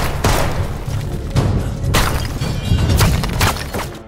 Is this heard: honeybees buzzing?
no